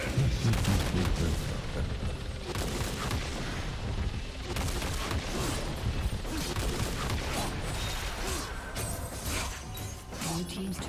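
Cannon fire in League of Legends sounds as dense, continuous battle noise: booms, gunfire-like blasts and mechanical clatter layered with game sound effects, under an announcer-style voice.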